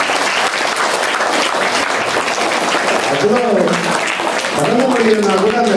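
Audience clapping at a temple wedding celebration, a dense continuous patter heard up close, with voices and music-like tones rising over it in the latter half.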